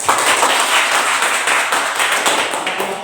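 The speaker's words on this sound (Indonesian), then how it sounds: "Silakan tepuk tangan." A classroom of students clapping together during a cooperative lesson, steady dense applause of moderate loudness across the whole stretch.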